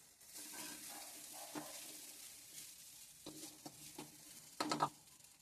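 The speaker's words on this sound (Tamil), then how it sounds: "அதை போட்டு இப்போ கிளறு போகலாம்." Cooked rice mixed with raw mango being stirred in a pan for mango rice, a faint soft sizzle broken by a few scraping spoon strokes, the loudest near the end, with no talking.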